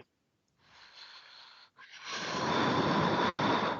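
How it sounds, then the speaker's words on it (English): A person blows their nose or snorts, a faint airy exhale followed by a louder, longer forceful blowing rush that cuts off briefly and resumes, heard alone without speech. "Why you are blowing your nose?"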